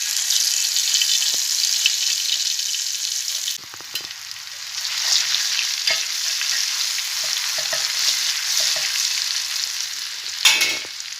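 Cumin and garlic sizzle steadily in hot oil, a bright continuous crackle with occasional stirring clinks and scrapes, close up and without talk.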